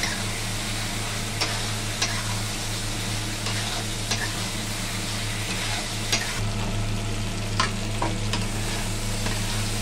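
Potol, potato and plantain sauté with turmeric, chilli powder, salt and ground coriander in a pan, a dense steady sizzle under a low hum, with occasional soft clicks of stirring.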